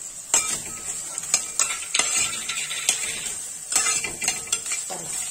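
Coconut being stirred into an okra stir fry in a pan, with a spoon scraping and clinking against the pan in repeated bursts over a steady sizzle.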